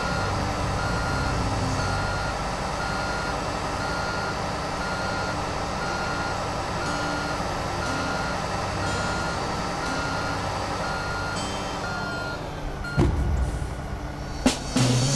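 A truck's reversing beeps sound in a driving simulator game during reverse-parking practice, a steady repeating electronic beep over a constant engine drone, with a couple of brief knocks near the end and no talk.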